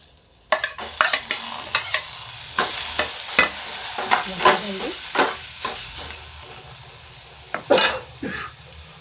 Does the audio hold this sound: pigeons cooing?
no